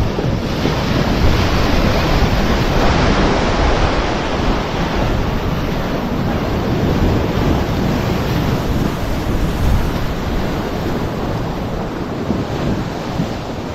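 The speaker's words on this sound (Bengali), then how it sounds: "জলের ঢেউগুলো দেখুন।" Sea waves wash continuously at Mousuni Island as strong wind buffets the microphone, a loud, dense, unbroken roar lasting over ten seconds with no voices.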